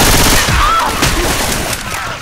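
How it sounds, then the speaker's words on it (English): Left 4 Dead 2 grenade launcher fire amid loud, dense game combat, a continuous barrage of bangs and crackling gunfire with a player talking over the din. "a grenade launcher shoots grenades"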